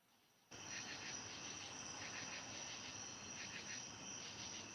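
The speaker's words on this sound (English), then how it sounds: "you hear the crickets in the background?" Steady high-pitched chirping of crickets rises in after a brief quiet start and carries on evenly in the background, a continuous pulsing trill with no one speaking.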